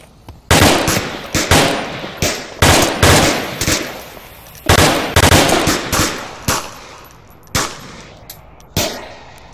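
Gunfire in the Onward VR shooter comes in loud, close bursts of rapid automatic fire. Sharp individual shots sit between the bursts, with brief pauses and no talking.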